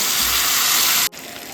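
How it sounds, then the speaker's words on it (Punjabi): Strained tomato puree pours into a hot pan while making tomato soup, a steady wet rushing sizzle that cuts off abruptly after about a second. "ਹੁਣ ਆਪਾਂ ਪਾਲਾਂਗੇ ਟਮਾਟਰ ਜਿਹੜੇ ਆਪਾਂ ਛਾਣ ਕੇ ਰੱਖੇ ਹੋਏ ਆ"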